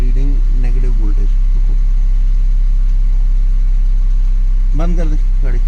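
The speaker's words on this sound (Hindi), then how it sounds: "गाड़ी स्टार्ट कर।" A car engine idles with a steady, loud low drone beneath someone talking at the start and end, during electrical testing of the vehicle's wiring.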